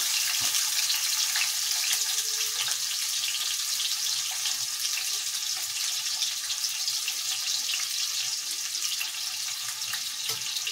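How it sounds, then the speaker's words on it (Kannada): Chopped onion frying in a pan for egg curry, a steady dense sizzle that holds at an even, fairly loud level throughout with no talking. "ಈರುಳ್ಳಿ ಚೆನ್ನಾಗಿ ಫ್ರೈ ಆಗಬೇಕು."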